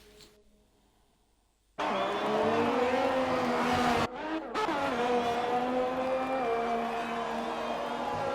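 A race car in a racing video game laps an Italian circuit, its engine a loud, steady droning whine that rises and falls with speed. It starts abruptly after a quiet lead-in and cuts out briefly midway before resuming.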